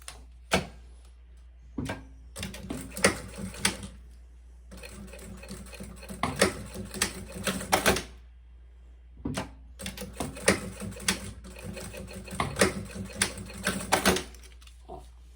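A sewing machine runs in stop-start bursts of rapid whirring stitches, close and loud, as two seams are sewn along an adjustable strap for a maternity bag, with short pauses between runs.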